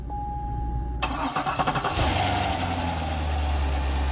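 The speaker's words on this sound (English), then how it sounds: "Now, with the new starter installed, check this out." A high-mileage Corvette engine with a newly installed starter cranks with a quick rhythmic chug for about a second, catches and settles into a steady, close idle with no talking.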